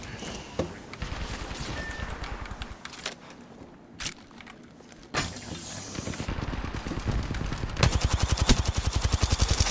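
Apex Legends combat gunfire, with scattered single shots and short bursts at first, then a long, rapid, loud automatic volley near the end, over background game noise and no talking.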